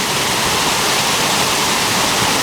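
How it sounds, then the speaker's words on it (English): A GLADIUS underwater ROV picks up a waterfall from below the surface: a steady, dense rushing roar that holds at the same loud level throughout, with no voices. "Let's go up to see if we can see the waterfall."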